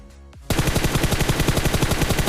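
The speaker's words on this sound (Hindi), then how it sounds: "जहां वो बंदा मेरे को लास्ट टाइम दिखा था, वहां पे मैं फायरिंग करता हूँ" Automatic gunfire in the mobile battle game PUBG Mobile opens after a brief quiet lead-in, then hammers out a fast, continuous burst of evenly spaced loud shots until the end.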